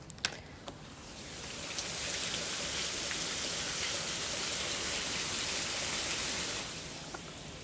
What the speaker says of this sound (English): Wow, it is raining super hard outside